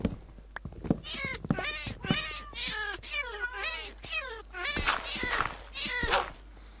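A cat in the Minecraft video game meows repeatedly as it dies, a close, clear run of short, rising and falling cries.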